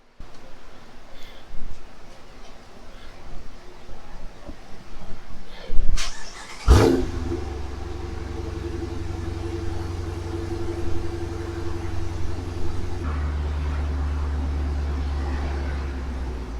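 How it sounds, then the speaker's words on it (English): A 2016 Dodge Challenger R/T with freshly installed JBA shorty headers cranks over and fires up, then settles into a deep, steady, rumbling idle with a brief blip partway through, after some quiet handling noises before the start. "Freshly installed JBL headers. 2016 Challenger RT."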